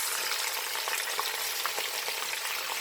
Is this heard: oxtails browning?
yes